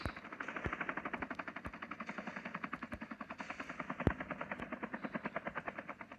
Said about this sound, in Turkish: İki helikopter geldi çünkü.